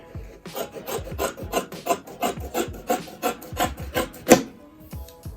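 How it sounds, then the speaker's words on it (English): Scissors cut through folded cotton fabric along a stencil for a homemade face mask, giving a steady run of crisp, rhythmic snips close by, with no talking. "place your stencil on top and just go ahead and cut that out"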